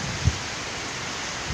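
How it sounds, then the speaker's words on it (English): Heavy rain pours steadily in Saigon, Vietnam as a dense, even hiss close by, with two brief low thumps at the start and end and no talk. "Now the rain is coming down even faster."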